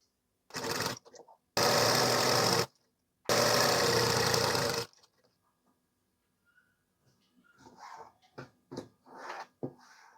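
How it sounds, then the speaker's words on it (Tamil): Sewing machine stitching blouse lining and material together: three loud, close bursts of fast steady machine whirring lasting about one to two seconds each, followed by quieter rustling and handling of fabric. "இப்போ ரெண்டையுமே வந்து நம்ம அட்டாச் பண்ணி ஸ்டிச் பண்ணணும்"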